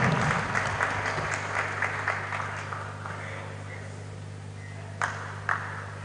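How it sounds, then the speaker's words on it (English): A conference audience claps in a burst of applause that thins out over a few seconds, with a steady low hum underneath and a couple of sharp clicks near the end. "Can we give him a round of applause?"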